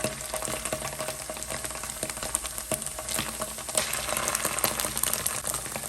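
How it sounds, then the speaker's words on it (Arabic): Garlic and tomato paste frying in a pan make a dense, continuous sizzle and crackle up close, with scattered stirring scrapes throughout. "بعد ما تحمر عندي الثوم وطلعت ريحته راح نضيف معجون طماطم بعدتين كبير."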